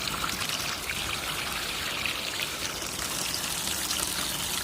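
Water trickles and splashes steadily from a heating collector being flushed, a continuous close hissing flow with no pauses and no talking.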